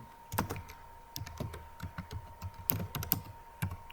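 Data entry on a computer keyboard: quick, uneven bursts of close key clicks and thumps with short gaps, heard alone without talk.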